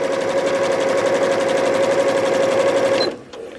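A sewing machine stitches a lined drawstring bag in one steady, close, humming run of rapid needle strokes, then stops abruptly near the end.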